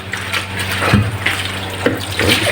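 Water runs steadily from a tap into a sink, splashing and gurgling as something is rinsed under the stream.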